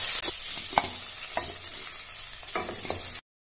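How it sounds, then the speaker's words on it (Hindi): Fried soybean chunks mixed into a pan with a spoon while cooking with potatoes: a steady close sizzle broken by several scraping stirs and spoon knocks against the pan, no voices. "इसमें फ्राई किए हुए सोयाबीन ऐड करेंगे। और चम्मच अच्छे से मिक्स करते हैं।"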